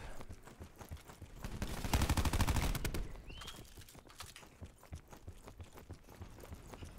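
Auger weapon fired in Black Ops 4, a rapid burst of close, loud gunshots peaking midway, followed by scattered quieter shots and game effects.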